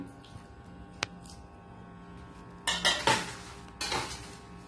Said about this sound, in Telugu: ఈ నిమ్మకాయ రసం కూడా ఇందులో వేసుకుని కలిపేసుకోవాలి